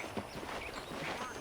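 Horse hooves clip-clopping in the video game Red Dead Redemption, a steady rhythmic trot under continuous talking, mixed with ambient game sound.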